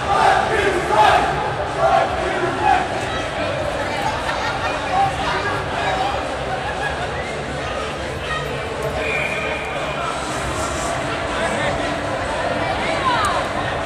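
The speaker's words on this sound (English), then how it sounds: "The crowd is voicing their concerns with the way the refs are running this game" Hockey crowd at an ERAU versus Auburn game protesting the referees, a sustained, roaring arena din with scattered shouts and jeers rising and falling throughout.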